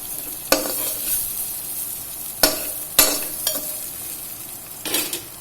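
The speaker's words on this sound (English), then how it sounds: "and give it a stir." Tondli masale bhaat stirred in a hot pan after turmeric and red chili powder go in, with a steady oil sizzle and a few sharp spoon scrapes against the pan, close and free of talk.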